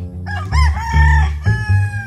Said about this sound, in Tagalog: Yan, yung mga panabong na niya, manok.